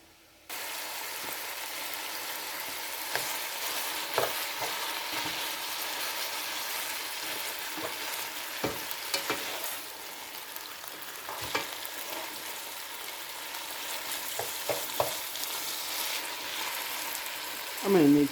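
Spaghetti sauce ingredients, likely ground meat, brown in a pan with a steady, dense sizzle, with occasional scrapes and stirring clacks throughout, heard close and continuous.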